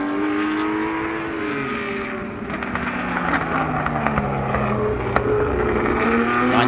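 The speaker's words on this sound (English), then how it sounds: "'62 Ferrari against that 1958 Porsche" Two classic race cars, a 1962 Ferrari and a 1958 Porsche, duel on track, their engines droning and rising in pitch as they rev and pass close by, a steady loud mechanical roar with shifting tones throughout.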